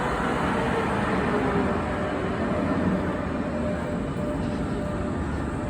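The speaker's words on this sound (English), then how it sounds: "here comes another tram, is across the street" A tram rumbles past on a busy street, a steady broad roar of wheels and traffic close by with no talking.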